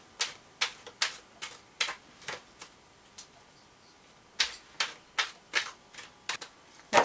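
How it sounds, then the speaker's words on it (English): Romance Angels oracle cards being shuffled in quick crisp bursts, about a dozen rustling riffles in uneven rhythm with a short pause midway, close and fairly quiet with no talking. "I'm going to shuffle the cards, my Romance Angels Oracle cards"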